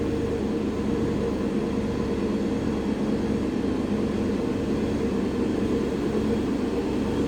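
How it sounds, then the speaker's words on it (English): A deep, steady exhaust rumble from a supercharged 2011 Ford F-150 Lariat pickup with a ProCharger drones on at constant loudness, low and throaty, with no break or change throughout. "Let's listen first to the exhaust note on this one."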